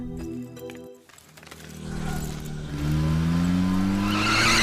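Car skidding with tires squealing on a street outside a shop, a rising high screech building over engine noise after a brief snatch of background music; loud and close.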